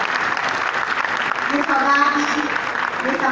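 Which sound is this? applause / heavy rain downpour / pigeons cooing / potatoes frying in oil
applause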